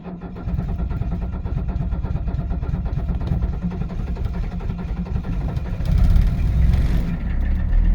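A 1978 Mercedes 300 SD diesel engine runs steadily just after a cold start in freezing weather, a rough, clattering idle that stays loud and close, with a brief rise in revs near the end.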